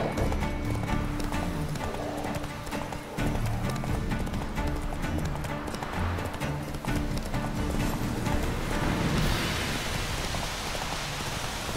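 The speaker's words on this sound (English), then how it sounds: "Whoa there, Roach." Horse hooves clip-clop at a steady gallop in The Witcher 3 video game, loud and continuous throughout, with rain pattering in the background and a brief neigh.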